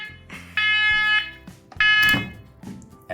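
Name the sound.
smoke alarm going off in a house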